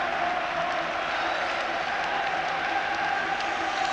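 A stadium crowd of Rangers supporters applauds at a 1998 home football match against Kilmarnock, producing dense, steady clapping and crowd roar that holds at an even level throughout.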